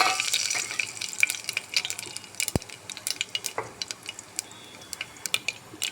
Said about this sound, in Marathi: जिरं मोहरी मस्त तडतडलं